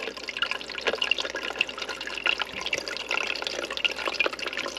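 Steady trickling and dripping water with a faint low hum underneath, constant and close, from a small pump sending water up to a little basket.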